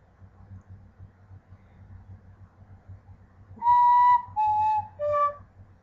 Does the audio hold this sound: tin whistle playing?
yes